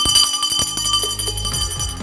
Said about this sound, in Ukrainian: Віримо, що саме цей дзвін стане переможним.